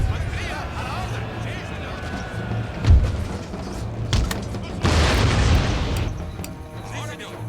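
Musket volleys and cannon booms thud through an Empire: Total War battle as a Spanish army fights, with scattered gunfire, a louder boom near the middle and a rushing burst of fire later, while a voice talks over it.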